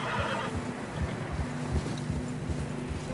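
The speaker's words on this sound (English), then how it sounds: "Horses are getting tired." A horse whinnies amid wind buffeting a microphone outdoors in fresh snow, with rhythmic low thuds of movement running beneath, loud and near.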